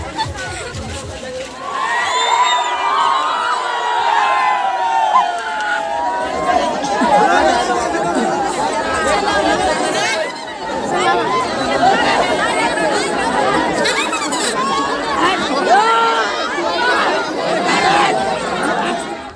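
A large crowd chatters and shouts at a rural village fair (jatra) near a forest, a dense, loud babble of many voices with children's shouts and occasional cheers, continuing throughout.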